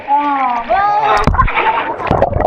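Water splashes and sloshes in a short burst, with children and adults talking and calling out loudly over it.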